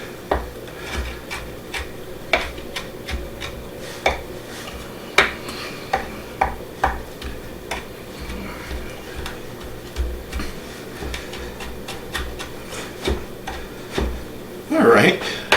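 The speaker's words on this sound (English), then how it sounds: "And we're going to take and chop this up. And we're going to chop it pretty fine." Fresh rosemary chopped finely with a knife on a cutting board for rosemary olive bread: a steady series of sharp, close taps spaced about half a second apart, with a low kitchen hum underneath.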